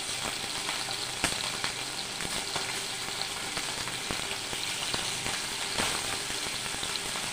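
Small fish, pakal and bele, frying in hot oil in a pan, giving a steady close crackling sizzle with scattered sharper pops throughout, no voices.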